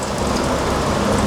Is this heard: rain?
yes